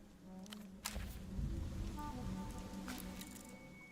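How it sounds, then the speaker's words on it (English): Steady rain falling in the video game Zero Parades, a soft continuous patter with a few brighter splashes and a low rumble swelling near the middle, moderately quiet throughout. "Rain gently muffled the world around you."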